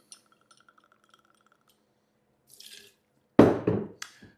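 Gin poured into a glass for a Negroni, starting with faint clinks and drips, then a brief splashy pour that sounds close and clear, followed by a smaller second trickle, with no voices.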